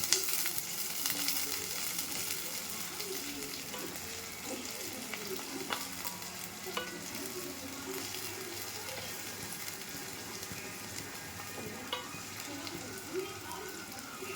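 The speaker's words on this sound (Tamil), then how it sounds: "சின்ன வெங்காயம் போட்டு நல்லா கொஞ்சம் வதக்கி கொடுப்போம்" Small onions (shallots) sauté in a pan for a tomato kuzhambu, a steady close sizzle with occasional scraping stirs throughout.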